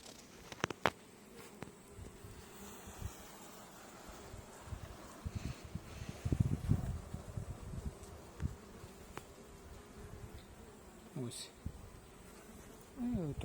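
Honeybees buzz steadily around a nucleus hive frame holding brood and stores, a close, continuous drone with a few louder passes of single bees near the microphone.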